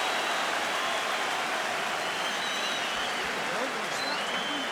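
Boxing arena crowd at Ricky Hatton versus Kostya Tszyu roaring steadily as punches land, a dense continuous wash of cheering with a commentator talking underneath.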